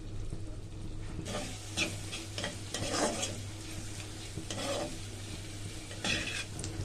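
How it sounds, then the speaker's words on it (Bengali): Ground spices with cumin powder and a splash of water sizzle in a pan for a soybean curry while a spoon scrapes and stirs in repeated strokes over a low, steady fry. "মশলাগুলোকে ভালো করে কষিয়ে নেব।"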